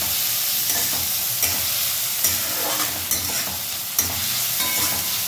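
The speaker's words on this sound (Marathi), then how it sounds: "मित्रांनो आपला कांदा परततोय" Chopped onion sautés in a pan with cumin for a potato and peas bhaji, a loud, dense, continuous sizzle with a few stirring scrapes, close and without voices.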